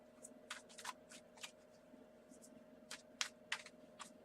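A deck of tarot cards is shuffled by hand, with a series of soft, quick riffling snaps and flicks coming in irregular bursts, close but quiet over a faint steady background hum.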